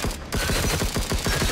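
Guns fire in the video game DYSMANTLE: rapid, evenly spaced shots in a loud, continuous burst close to the listener, with no talk over it.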